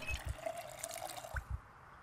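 Water filling a bottle in the survival game Project Zomboid, a short watery trickle and drip effect with a few soft thumps, heard alone at moderate level.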